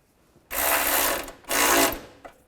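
Ratchet tightening a bolt on a 2005-2010 Chevrolet Cobalt during drive belt work, two close bursts of rapid clicking ratchet strokes separated by a short pause, then a faint tap.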